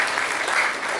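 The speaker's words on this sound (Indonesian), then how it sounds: "Jadi kita berikan tepuk tangan yang meriah bagi Yesus." A church congregation claps together in a dense, steady burst of applause that fills the room without any voices.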